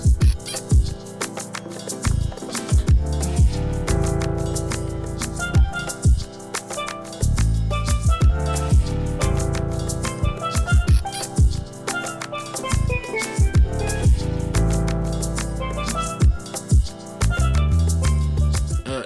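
A full beat of piano, drums, bass guitar, effects and vocals plays loud and continuous, with punchy percussive hits driving a steady rhythm throughout.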